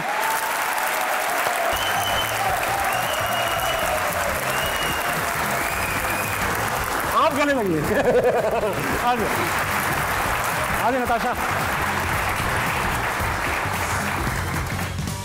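Studio audience applause on the comedy show Hasna Mana Hai greets guests Naveed Nashad and Natasha Baig, a steady dense roar filling the whole stretch while a host speaks over it.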